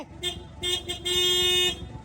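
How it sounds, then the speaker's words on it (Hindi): A car horn sounds loud and close in a few honks, two short beeps, then a longer sustained blast, over a low background rumble. "कते हॉर्न मारने छिए ड्राइवर साहेब?"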